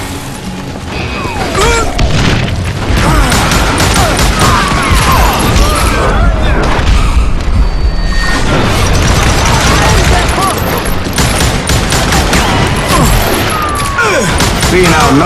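Gunfight in the Western shooter Call of Juarez Gunslinger, set at a camp outside Parachute, Colorado: dense, loud, continuous volleys of gunshots and booming impacts with barely a pause, layered with game effects and occasional voices.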